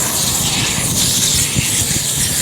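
An inground lawn sprinkler head spraying water from a freshly opened zone, a steady close hiss with a faint low rumble beneath, continuous and even throughout with no talking.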